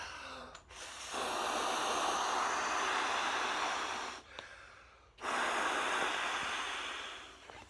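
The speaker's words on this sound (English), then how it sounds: "that was two breaths filled up the entire thing" Breath blown into an EcoTek compact inflatable camp travel pillow, heard as two long, close, airy exhalations with a short pause between them and no talking.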